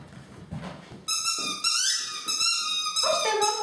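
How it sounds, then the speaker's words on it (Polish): A dog at play gives excited high whines and yips, a run of squeaky vocalizations close by after a moment of quieter shuffling. "Super piesek."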